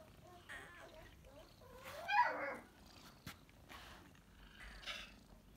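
Cats purr softly and steadily in a home, with a brief meow-like cry and light rustling in the middle; close and fairly quiet, with no talking.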